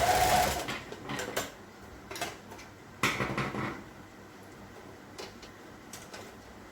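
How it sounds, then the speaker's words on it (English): An overlocker runs in short bursts as it serges and finishes the curved edges of fabric pieces for underpants. Its rapid mechanical whirr starts loud and close, then comes in several brief runs with pauses between them. "Just get my overlocker going here."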